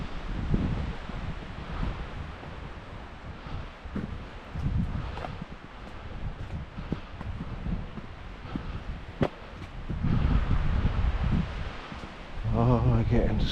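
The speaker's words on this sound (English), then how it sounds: "Wind is picking up." Steady wind buffets the microphone on a mountain hike to Mount Success, New Hampshire, rushing and gusting loudly throughout, with brief voices underneath.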